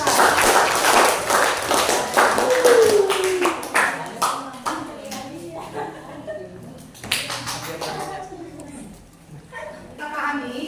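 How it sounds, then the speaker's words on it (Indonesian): Classroom applause for a presenting student group: a burst of clapping from many hands that thins out over the first few seconds, followed by scattered claps and voices talking in the room. "Tepuk tangan buat kelompok kami."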